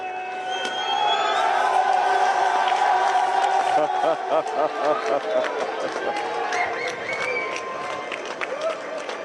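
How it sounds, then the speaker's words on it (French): Crowd at an outdoor race podium ceremony applauding and cheering the winners, a broad sustained roar with whoops, while a loud amplified announcer talks over it. "Applaudissons encore une fois les vainqueurs."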